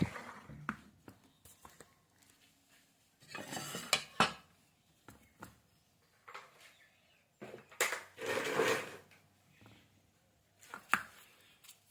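Rice and sticky rice being washed by hand in a pot, with close wet clinks, scrapes and swishing in irregular bursts, louder stirring spells around the middle and near the end, no talk.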